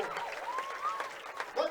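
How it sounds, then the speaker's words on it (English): An audience at a lumberjack championship applauds after a men's boom run. The clapping is steady and crowd-wide, with an announcer's voice carrying over it. "Round of applause going to get him"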